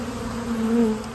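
Honeybees swarm around an open-air hive with foragers returning laden with pollen, making a steady, close, droning buzz that swells slightly for a moment before easing.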